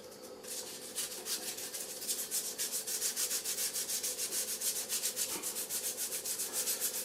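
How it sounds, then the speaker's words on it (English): Wet and dry sandpaper rubbing back and forth over a wooden gun stock being finished with Tru Oil, a close, steady rhythmic scraping of even strokes with no talk. "I'm just finishing it off again with the wet and dry"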